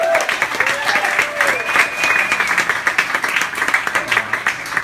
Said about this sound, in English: One more time for Rachel, guys. Clap it up.